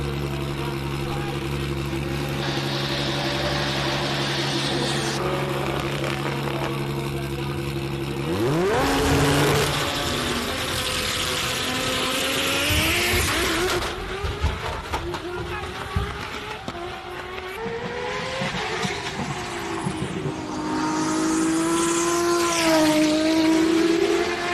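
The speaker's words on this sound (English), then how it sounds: "Just the loudest car." A loud race car at the Simola Hillclimb revs its engine hard, the pitch climbing and falling through repeated surges as it pulls away, close and dominant over crowd noise.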